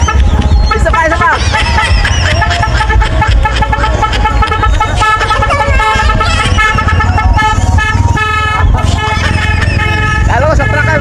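A modified tricycle horn honks loudly and repeatedly in short bap-bap blasts, set against dense background noise and crowd babble.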